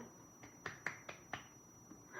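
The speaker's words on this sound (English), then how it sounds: "I clapped" Hands clap sharply about five times at a live stream, irregularly spaced, with a quiet room hum beneath and no talking during the claps.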